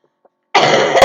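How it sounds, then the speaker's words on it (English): A single loud, harsh cough bursts out close by after near silence, preceded by a couple of faint small sounds. "sorry I'm coughing."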